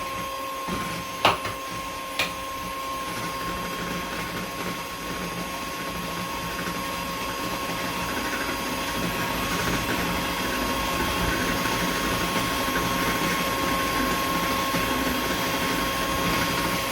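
An electric mixer beats sugar and eggs for a banana cake batter, giving a steady, loud whirring drone with a faint high whine. A couple of sharp clicks come near the start, and the motor then runs continuously without a break.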